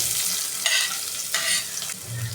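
Onions hit hot oil with a sharp sizzle, the hissing swelling in bursts as they are stirred, steady frying crackle underneath.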